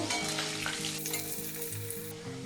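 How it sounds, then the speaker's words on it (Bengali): Potato pieces, cut into large chunks, fry in a pan of hot oil tempered with fennel seeds, giving a loud, steady close-up sizzle with small crackles and no talking. "আলুগুলো একটু বড় বড় করে এরকম কেটে নিয়েছি এটা খুব ভালো করে ভেজে নেব"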